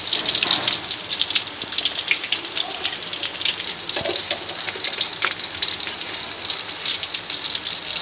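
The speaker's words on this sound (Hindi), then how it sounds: "फिर मैं बाकी भी फ्राई कर लेती हूँ" Chicken cheese cutlets fry in hot oil, giving a steady, dense bubbling sizzle that stays even and close throughout with no talking.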